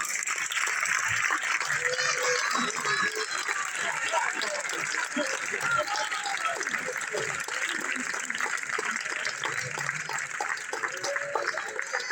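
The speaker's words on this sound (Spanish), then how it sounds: "Por favor, un aplauso, Hugo" Steady, dense applause from an audience at a primary school graduation ceremony (CEIP Ría de Vigo, 2021/22), sustained for the whole stretch, with voices calling and chattering mixed into the clapping.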